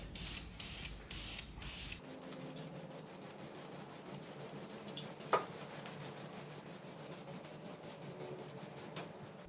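Lacquer sprayed from an aerosol can onto a DIY desk, a steady hissing spray in short bursts with a hiss that continues under faint handling noises, close and fairly quiet.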